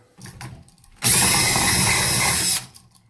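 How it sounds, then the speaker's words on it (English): A power drill bores through drywall in one loud, steady burst lasting about a second and a half, preceded by quiet handling noises and ending abruptly. "I made a hole back there with the drill."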